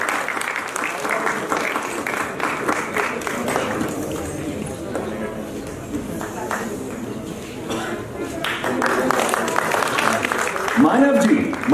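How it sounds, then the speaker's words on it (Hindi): An audience at a theater festival award ceremony claps steadily and loudly, the applause swelling toward the end, while a host speaks over it through a microphone. "जोरदार ताली बजाइए"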